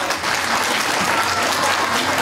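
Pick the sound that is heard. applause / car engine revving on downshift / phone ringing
applause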